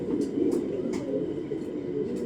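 Pigeons coo in a steady, close, low murmur that runs unbroken through the whole moment, with a few faint higher chirps above it.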